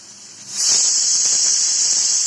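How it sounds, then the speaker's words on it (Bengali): A pressure cooker whistle, used while cooking mutton curry, bursts into a loud, sharp, steady hiss of releasing steam that starts abruptly and holds strong, close up. "এই দেখো সিটি পড়ছে"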